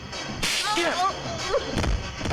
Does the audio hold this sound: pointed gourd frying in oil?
no